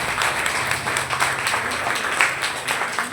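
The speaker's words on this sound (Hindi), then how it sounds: "एक बार जोरदार तालियां सभी के लिए।" An audience claps loudly and steadily together, a thick sustained round of applause with no talking over it.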